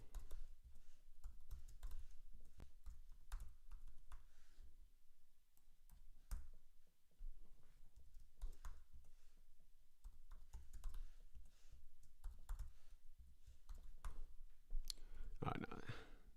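Soft, quick keystrokes on a keyboard while entering a math expression, a steady patter of faint clicks continuing throughout, with a person talking quietly over part of it.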